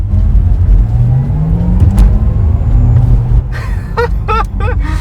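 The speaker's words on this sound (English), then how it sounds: "what Porsche does is to give you an electric sound, which is absolutely futuristic at this point" Low, droning synthetic electronic hum of an electric Porsche sports car driving, with a rising synthetic whir underneath and a few brief chirps near the end.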